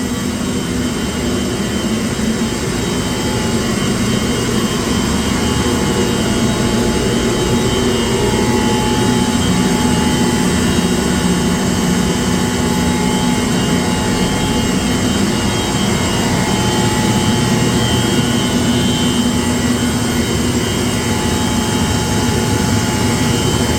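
A large centrifugal chiller runs continuously in a plant room, a loud, steady mechanical roar with a whining hum that keeps a constant level throughout.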